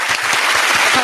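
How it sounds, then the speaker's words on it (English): A studio audience breaks into steady applause on a radio talk show, dense overlapping claps sustained at an even loudness from start to finish. "Let's clap it up. Clap it up."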